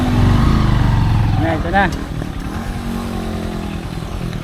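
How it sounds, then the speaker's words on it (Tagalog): A motorcycle engine revs loudly while stuck in deep mud on a rural road in the rainy season, with the clutch held in. The roar is close and continuous, with a rising whine partway through, and a voice speaks over it. "Kaya sobrang ingay ng motor"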